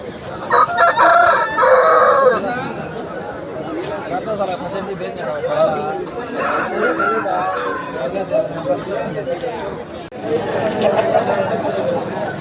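Roosters crow repeatedly at the Pileru weekly livestock market, with several overlapping calls amid crowd chatter and someone talking close by throughout.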